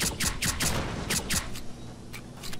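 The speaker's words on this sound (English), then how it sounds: "I'll just use the pistol." Pistol shots ring out in S.T.A.L.K.E.R. Clear Sky, about ten sharp cracks fired in quick, uneven clusters, loud and close against a low ambient hum.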